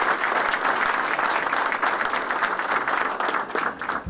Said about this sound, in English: So a round of applause for our partners.